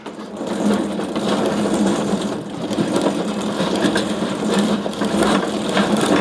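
A grape destemmer-crusher machine runs steadily while grenache grapes are fed in for home winemaking, a continuous loud mechanical whirring and rattling with crushing texture throughout.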